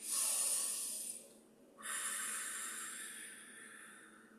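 Slow, steady breathing during a guided relaxation exercise: two long, airy breaths heard close and soft, a drawn-out hiss, a short pause, then another smooth breath that fades gradually, with no talking.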